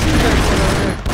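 Loud, dense burst of rapid machine-gun fire in a shooter video game, an unbroken roar of overlapping shots that dips briefly near the end before resuming.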